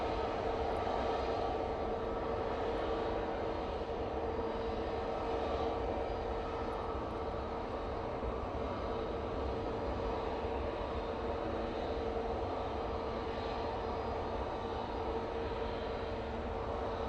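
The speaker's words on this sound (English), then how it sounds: "Lovely landing from the British Airways there." British Airways airliner landing at Manchester Airport on a windy day, a steady, dense engine roar with wind rumble that holds at an even loudness throughout, with no talk.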